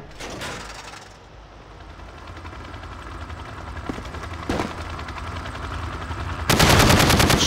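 Hip-fired automatic gunfire in Call of Duty Modern Warfare: rapid continuous bursts of shots over a mechanical din, with scattered louder cracks and a dense, heavy volley near the end.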